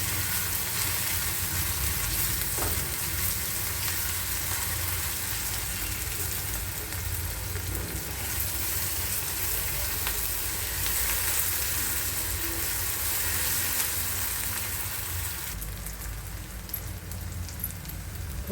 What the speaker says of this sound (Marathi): यामध्ये आपण मिरची आणि लसूणचे वाटण घालून घेऊया आणि त्यालाही परतून घेऊया